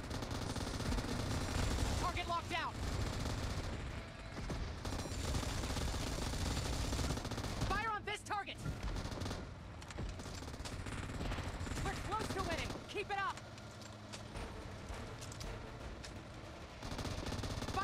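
M249 machine gun fire in PUBG Mobile rattles in long, loud continuous bursts with brief gaps, while an in-game voice calls out targeting commands over the shooting.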